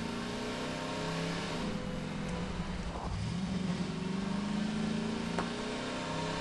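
Car engine in the video game Half-Life 2 drones steadily with smooth harmonic pitch sweeps as the vehicle drives and revs, continuous and fairly close, with no talk.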